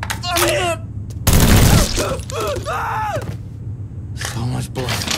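Gunfire in a Mafia 3 final boss fight: sharp bursts of shots crack between frantic shouted voices, with one loud blast standing out in the middle and more rapid reports near the end.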